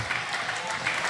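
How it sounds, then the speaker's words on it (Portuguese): A church congregation at a 25th anniversary Sunday celebration at IBCA São Gonçalo applauds, a dense, even roar of clapping that stays full and loud from start to finish. "Aplauda a Jesus com entusiasmo. Aplauda a Jesus com vontade."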